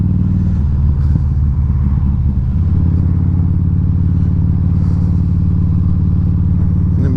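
A 2012 Harley-Davidson V-Rod Muscle motorcycle engine runs steadily at around 2,000 RPM, a loud, close, continuous low rumble with a slight dip in pitch near the start.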